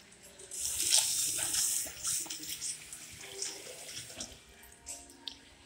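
Water running from a tap into an unbranded undercounter sink in public toilets at a shopping centre in Portugal, a steady hiss and splash that is strongest early and eases off, with faint voices under it.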